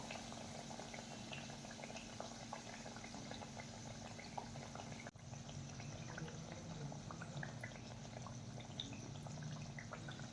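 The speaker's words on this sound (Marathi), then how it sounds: "आणि कचोरी एका बाजूने छान तळून घेऊयात।" Kachori frying in hot oil, a faint, steady bubbling sizzle with light crackles that carries on evenly throughout.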